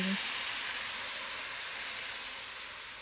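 Roasted semolina in a pan gives off a steady, close hiss of frying that slowly fades over a few seconds, with no talking over it.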